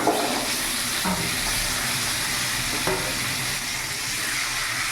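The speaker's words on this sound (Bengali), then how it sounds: "আমি প্রত্যেকটা এবার ভালো করে ভেজে নেব" Chopped vegetables, including cauliflower, fry in a pan with a steady loud sizzle and soft stirring scrapes throughout, while a vegetarian khichuri is cooked.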